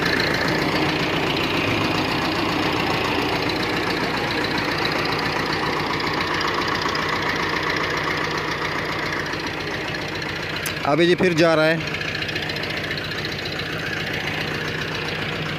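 Engine of a new sugarcane sowing machine idling steadily with a knocking diesel rumble, close and continuous, while someone talks over it and a brief high whine cuts in near the end.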